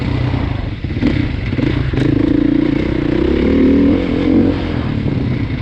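A 2020 Beta 500cc dual sport motorcycle revving up close, its loud engine roar rising and holding with some clatter, steady throughout and without talk.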